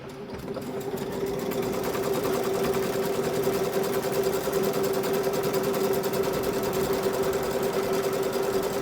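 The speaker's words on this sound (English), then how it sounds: "The first thing it's going to do is the placement stitch to show you where to put the fabric down." Embroidery machine stitching a placement outline for an in-the-hoop mini notebook cover, a steady rapid mechanical whir and hum that starts up and keeps running evenly, close and without talk.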